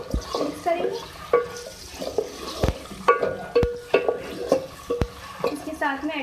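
Stirring chopped tomatoes and green chillies in a cooking pan, with soft scraping and light sizzle, several sharp utensil clinks against the pan, and someone talking over it.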